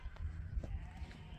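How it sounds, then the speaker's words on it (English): Sheep bleat a few times while being rounded up by sheepdogs on the South Downs, short wavering calls at moderate distance, over soft outdoor background noise. "Sheep being rounded up."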